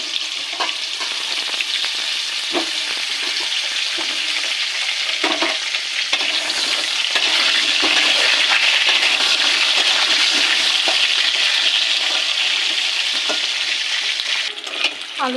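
Potatoes fry in hot oil in a wok for chicken do pyaza, giving a loud, continuous sizzle that holds for the whole stretch with occasional stirring scrapes and no talking.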